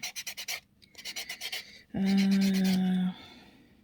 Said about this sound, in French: ce qu'il faut faire, c'est griffer les capsules